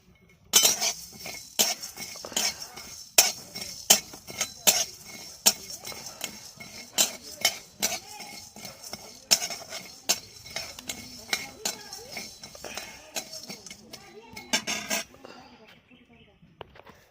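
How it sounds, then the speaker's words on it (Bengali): Coriander seeds and whole cumin dry-roasting in a pan with cinnamon, cloves and peppercorns, stirred with a metal utensil that clinks and scrapes against the pan in a steady irregular rhythm of sharp close taps. "এবারে আমি ধনে 1 চামচ আর জিরে গোটা 1 চামচ দিয়ে দিলাম ভাজতে।"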